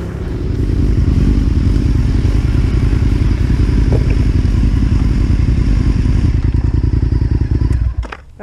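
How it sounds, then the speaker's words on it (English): A BMW motorcycle engine pulls hard and loud close by, a rapid rhythmic pulsing drone held steady for several seconds before cutting off abruptly at the end. "Quick bike swap so Tom could check out the power of the BMW."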